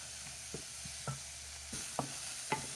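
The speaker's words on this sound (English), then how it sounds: "You can hear that sizzle." Onions, garlic and gungo peas with powdered seasonings hiss in a pot over medium-high heat, a steady quiet sizzle broken by occasional scrapes and knocks of stirring.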